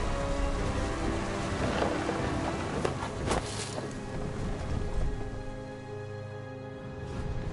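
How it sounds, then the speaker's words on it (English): Rain and rumbling thunder in What Remains of Edith Finch form a continuous, moderately faint downpour with a couple of sharp cracks partway through and a low rolling rumble beneath. "Thunder sounded much too close and full of angry power."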